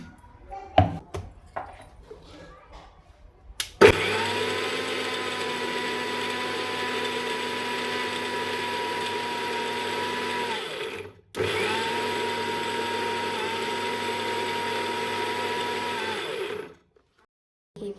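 A kitchen mixer grinder whirs through soaked dal batter for vadas, a loud steady motor whine running about seven seconds, pausing briefly, then running again for several more seconds after some faint handling clatter.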